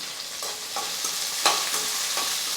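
Chopped onions and curry leaves sauté in a pan with a steady, close sizzle, broken by rhythmic spatula scrapes and stirs, and no speech.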